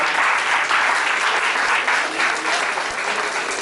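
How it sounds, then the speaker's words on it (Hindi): Audience applause at a school prize distribution ceremony in Haryana: dense, steady clapping from a large crowd, loud and continuous throughout with no talk over it. "तालियां जोर से बजाओ"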